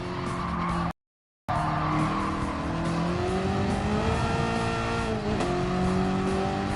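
A race car in Gran Turismo 7 drives at the Goodwood Circuit, its engine droning loudly and rising in pitch through upshifts with some tire squeal. A short dropout of silence breaks the sound early on.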